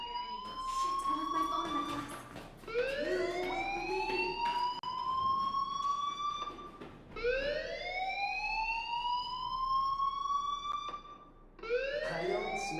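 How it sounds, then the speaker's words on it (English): A fire alarm in the video game Life is Strange whoops in loud, repeated rising sweeps, each cycle about four seconds long with a short break between them. "Hey, do you hear that fire alarm?"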